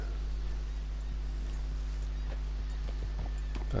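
Rhythmic clip-clop of horse hooves during a ride in Red Dead Redemption 2, steady and moderately close over a constant low rumble, with a faint voice in the background.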